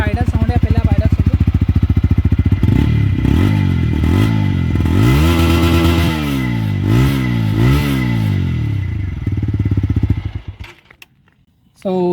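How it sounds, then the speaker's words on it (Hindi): TVS Apache RTR 160 4V BS7 motorcycle engine, loud and close, starting with a steady idle and then revving up and down several times before cutting off abruptly. "तो ये आइडल साउंड है, पहले आप आइडल सुन लो।"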